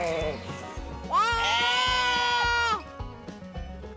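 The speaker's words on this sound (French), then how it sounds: "Il y a les moutons qui broutent l'herbe dans une prairie" A sheep gives one long, loud, wavering bleat close by in a traditional Norwegian village setting, with lower background sounds before and after.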